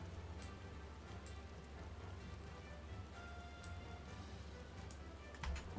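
Steady rain in the video game Final Fantasy XIV Endwalker, a soft continuous patter with occasional light ticking drops, even and moderately quiet throughout with no talking.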